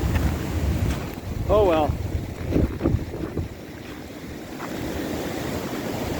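Wind storm blowing steadily outdoors at night, with trees around a trail and broken branches scattered everywhere; a continuous broad roar runs the whole time, with a brief spoken remark and a few rustling bursts over it.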